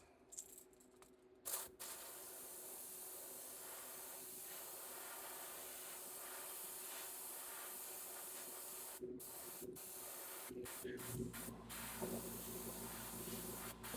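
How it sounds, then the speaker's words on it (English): An airbrush sprays paint onto a crankbait fishing lure, with a steady hiss running almost throughout, broken by a few short pauses and trigger releases, and light handling rattles near the end. "Having to spray it on a little thicker than I usually like to, because I didn't do a white base."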